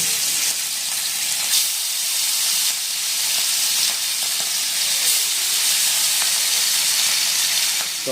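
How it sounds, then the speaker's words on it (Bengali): Hilsa fish frying in hot mustard oil, a constant loud hissing sizzle with faint crackles and occasional pops, with no talking. "আর এখন আমরা প্রথমে মাছগুলো ভেজে নেব।"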